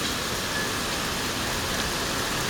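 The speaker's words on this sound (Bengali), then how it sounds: "কি মনোরম বৃষ্টি নামতেছে" Steady rain pours down in a continuous broadband hiss, even and unbroken throughout, with no voices.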